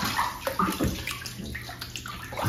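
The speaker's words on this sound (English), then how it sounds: "so now it's time to put it inside the water and see how it reacts" A Groove Onn LED Bluetooth speaker dropped into water, giving close, busy splashing and sloshing that churns steadily for a couple of seconds with no voices.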